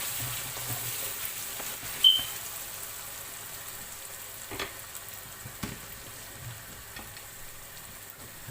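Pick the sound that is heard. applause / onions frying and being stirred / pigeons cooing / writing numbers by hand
onions frying and being stirred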